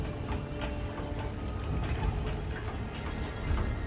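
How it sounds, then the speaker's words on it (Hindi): Floodwater surges and rises fast, a dense, steady rushing roar that fills the scene without pause and with no voices over it. "पानी तेजी से बढ़ रहा है"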